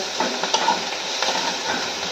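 Gourd peels sizzle in a frying pan with a steady hiss, broken by a few light scraping stirs of a utensil, close and fairly loud with no talking.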